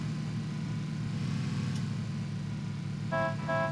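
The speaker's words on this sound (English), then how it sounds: "Just drive straight that direction and honk your horn." Car horn in a multiplayer driving video game sounding in two short honks near the end, over a steady low engine hum from the vehicle.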